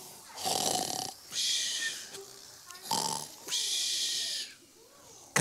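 A stage performer imitates loud snoring with the voice, long rasping inhales alternating with whistling, wheezy exhales in a slow repeating rhythm, close and prominent.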